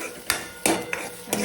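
A metal spoon knocks and scrapes against a cooking pot while mashed peas are pulled in, four sharp clanks spaced unevenly over a quiet background, close by.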